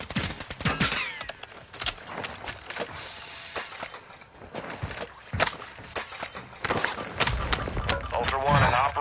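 Bursts of automatic gunfire and scattered shots in a tactical shooter video game, loud and dense throughout, with voices of players calling out under the shooting.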